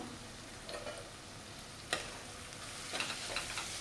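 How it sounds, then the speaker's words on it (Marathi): Spices and garam masala sautéing for misal, a soft steady sizzle with a few sharp spoon taps and scrapes against the pan, quiet and close, without speech. "छान असं परतून घेऊया"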